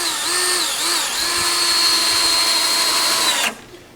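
A power drill drives a 2-inch screw into a wooden runner, a loud close whine that rises in pitch, holds steady for several seconds, then cuts off abruptly.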